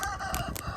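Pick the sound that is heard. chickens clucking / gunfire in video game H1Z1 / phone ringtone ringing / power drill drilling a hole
chickens clucking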